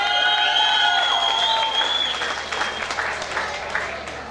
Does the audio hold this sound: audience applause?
yes